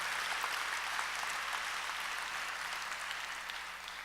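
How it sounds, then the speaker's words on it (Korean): An audience at an evening mission conference session breaks into warm applause, a dense, even wash of clapping that carries on steadily and eases off slightly toward the end. "뜨겁게 박수로 한번 감사하십시다."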